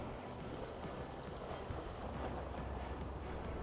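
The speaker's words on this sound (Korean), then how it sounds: "지금 바람이 불고 파도가 넘어오고 이러니까 추워서 다시 또 옷을 입었습니다." Winter sea wind blowing and waves washing in while fishing for black sea bream from the shore, a faint, continuous blustery rush with soft surf swells and occasional gusts buffeting the microphone.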